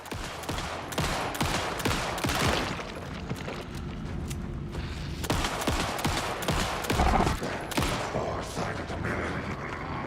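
Rapid bursts of gunfire from the survival horror game Alan Wake 2, loud and dense, with sharp shots and booming impacts tumbling over one another across the whole span, no voices.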